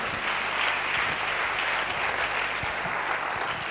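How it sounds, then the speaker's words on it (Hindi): A hall full of seminar attendees claps loudly in a dense, continuous burst of applause that stays even and strong from start to finish. "अब सारे लोगों के लिए एक जोरदार ताली होनी चाहिए।"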